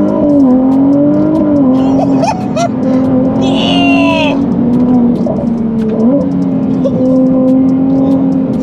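A Ferrari 296 GTB engine revs and pulls hard while driving, a loud, rising tone with gear changes and brief dips, heard from inside the car with a short exclamation from the driver.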